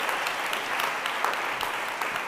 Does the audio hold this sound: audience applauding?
yes